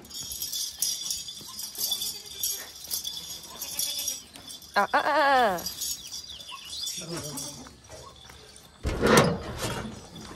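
Goats bleat a few times on a village farm in the morning, one wavering cry in the middle and a louder call near the end, with someone talking between them and outdoor background noise.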